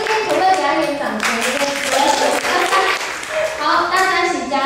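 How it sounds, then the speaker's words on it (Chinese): A congregation at a Saturday church service claps for a new church co-worker. The brief round of hand clapping is mixed with overlapping voices and chatter throughout. "这边可不可以给他一点掌声？"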